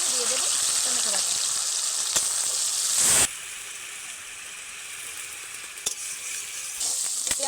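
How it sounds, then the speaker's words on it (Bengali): Onion paste with black cumin seeds fries in a pan with a steady, close hiss and sizzle. The sound dips abruptly partway through, then continues under a few faint clicks. "পেঁয়াজটা হালকা ভাজা হয়ে গেছে,"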